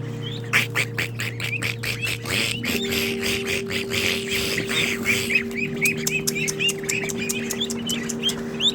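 A flock of ducks on a farm quacks repeatedly in dense, overlapping bursts, close and fairly loud over a steady low mechanical hum, with no talking.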